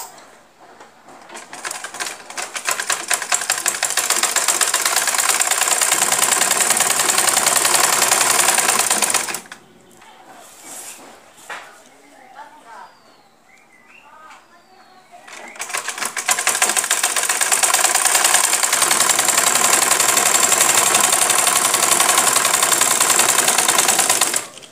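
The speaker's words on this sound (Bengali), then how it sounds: "তো 1 ইঞ্চি কাপড় বাহিরে রেখে আমি 1 ইঞ্চি ভেতর দিয়ে সেলাই করে নেব।" A sewing machine stitches a kameez seam in two long, steady runs of rapid, close, loud mechanical whirring and clatter, separated by a quieter pause with faint handling sounds.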